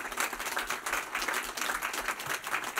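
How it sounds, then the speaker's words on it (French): An audience applauds Olympic champion Grégoire Béraud at a safety-themed gathering, moderately distant, dense clapping from many hands that pulses steadily throughout. "notre champion, on peut applaudir Grégoire Béraud"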